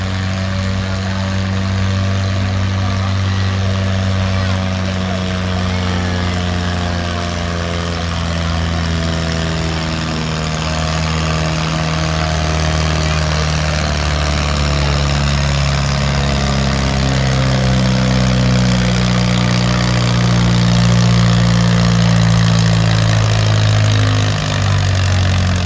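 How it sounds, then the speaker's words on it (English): A 1948 Farmall M tractor's big 250 cubic inch four-cylinder engine runs loud and steady at the county fair tractor pull, its deep drone gradually shifting in pitch as it works, with no talk. "This is what 250 cubic inch, big 4-cylinder Farmall M."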